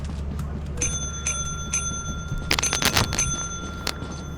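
Repeated electronic bell chimes from a video game, ringing several times in an even rhythm over a low background hum, followed by a brief burst of clattering noise.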